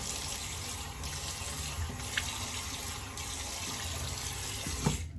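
Water from a bathroom tap runs in a steady hiss for a post-shave rinse, close and even, with a faint splash near the end.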